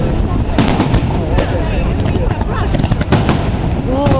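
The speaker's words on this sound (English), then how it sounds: "20 hours of fireworks. Big one," July 4th fireworks burst in a dense, continuous crackle with repeated sharp pops, loud and close, while people talk and exclaim over the noise.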